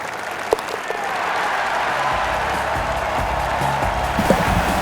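Golf spectators applaud in a sustained wash of clapping from a sizable crowd, steady and fairly loud throughout with a low hum underneath, no distinct cheers standing out.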